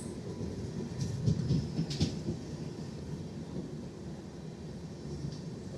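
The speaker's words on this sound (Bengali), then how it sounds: "WAP7 Kanchankanya express." A Kanchankanya Express hauled by a WAP7 electric locomotive rumbles past at an Indian station, a steady low rolling roar with a few brief rattling clanks early on, moderately distant, no talk.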